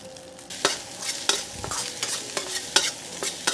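Metal spatula repeatedly scraping and clanking in a wok as rice is stir-fried with fried rice seasoning powder, with a steady sizzle underneath; close and fairly loud, no talking.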